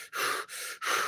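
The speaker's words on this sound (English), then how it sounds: "Heavy breathing." Heavy breathing, three loud, close, airy breaths in a steady rhythm, each separated by a brief pause, with no talking.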